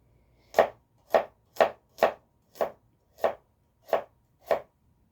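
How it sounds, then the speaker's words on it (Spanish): Eight sharp, evenly paced knife strokes on a cutting board as vegetables are chopped, each a crisp close thud about half a second apart, with near silence between them. "voy a seguir cortando"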